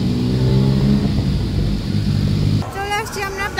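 A vehicle engine with a motorbike-like note drones and hums steadily at close range, then drops off as a voice begins speaking near the end.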